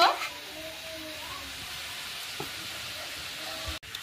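Chicken meat going into a pot of chicken biryani with potatoes, a soft crackling sizzle of frying that follows a brief louder clatter at the start, staying low and steady underneath.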